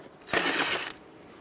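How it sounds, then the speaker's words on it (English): An 8mm socket ratchet loosens a hose clamp on the throttle body side of a 2015-2020 GMC Yukon XL 5.3L V8, a single short burst of fast ratchet clicking, close and moderately loud. "Use an 8mm socket to loosen this up."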